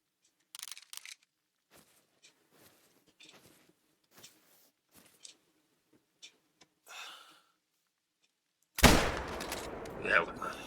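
A single loud hunting rifle gunshot in theHunter: Call of the Wild, a sudden blast with a ringing tail after a stretch of faint footsteps and soft clicks.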